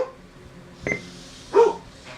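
A dog barks two short, sharp times in a room where a NordicTrack X7i Incline Trainer treadmill is running, with a steady low machine hum underneath.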